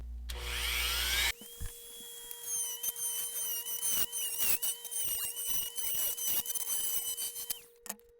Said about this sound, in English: you have to take the Dremel and angle your bit in the event you're using one of these cutoff wheels